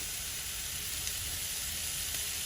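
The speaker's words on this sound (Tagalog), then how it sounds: "At habang nagsiprito po ako nitong chicken" Chicken pieces fry over medium heat in a pan for butter steak chicken, giving off a steady, even sizzle that holds at moderate loudness with no talk.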